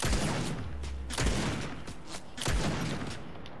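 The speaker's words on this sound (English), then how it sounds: "Oh, why are they all shooting at me?" Gunfire from the video game Fortnite, played on PS4/PS5, comes as a quick burst of several sharp shots followed by a couple of louder booming hits, fairly loud with no talking.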